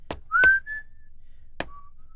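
A man whistles a few short rising notes of a jaunty show tune, brief clear tones separated by soft taps or footsteps, close and otherwise quiet.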